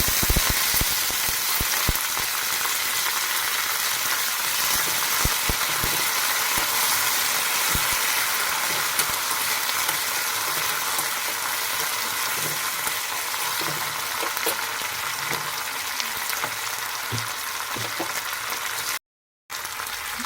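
Steady, loud sizzling of dry red chillies and curry leaves frying in hot oil, continuous crackle with scattered pops, one brief dropout near the end.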